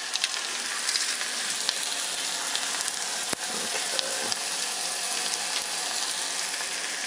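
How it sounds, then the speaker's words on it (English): Minced garlic sizzles steadily in a pot while pork spare ribs are cooked, a continuous close frying hiss with light crackles throughout and no voices. "So we're going to saute that now just for a minute"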